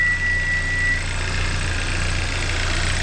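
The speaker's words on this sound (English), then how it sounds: "that tick is the engine. No, it's not. That's the high pressure fuel pump." A Hyundai Santa Fe turbo engine idles steadily while its high pressure fuel pump ticks, a fast, even mechanical clicking layered over the close, continuous engine hum.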